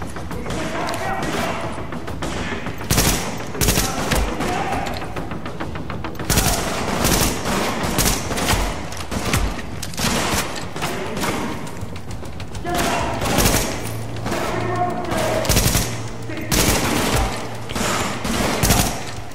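Enemy turret and other weapons firing in a firefight in The Division: dense, repeated bursts of gunfire with thumps and booms across the whole stretch, under intermittent talk.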